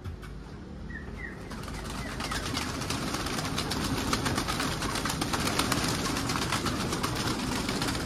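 Pigeon wings flapping as a pigeon flies in, amid a busy outdoor wash of noise, with a brief bird call early on; the fluttering builds and stays steady throughout.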